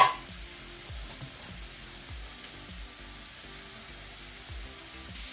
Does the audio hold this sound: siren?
no